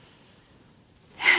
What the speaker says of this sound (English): pause and take a deep breath. So breathe in